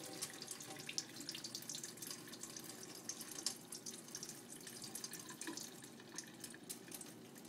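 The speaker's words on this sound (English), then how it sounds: "Draining off as much of the water as I possibly can." Water drains out of a tilted pot of rice being cooked for Jamaican-style rice and peas, a faint continuous trickle and splash with small drips throughout.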